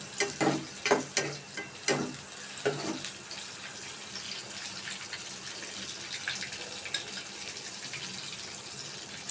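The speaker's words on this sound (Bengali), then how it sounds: "নাড়তে থাকবো, সাবধানে নাড়বা যাতে তেল গায়ে ফুটে না পড়ে।" Food frying in hot oil is stirred with a spoon, several sharp scraping strokes near the start, then a steady, quieter sizzle carrying on alone.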